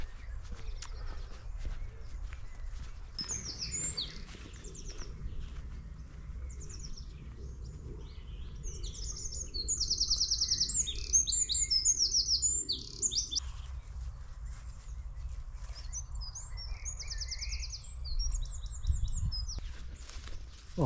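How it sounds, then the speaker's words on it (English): Birdsong rings through a bluebell wood, with repeated bright chirps and trilled phrases from several birds at moderate distance over a low, steady rumble, with faint footsteps now and then. "So let's just walk on and enjoy the scenery and the bird song."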